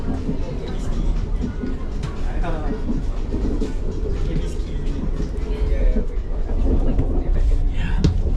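Steady low rumble and rolling hum inside a moving KLIA Transit train carriage in Kuala Lumpur, with faint rhythmic rail noise and people talking over it throughout.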